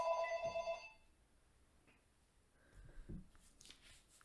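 A house landline telephone rings with a short electronic trill at the start, then stops, leaving quiet room tone with faint shuffling noises.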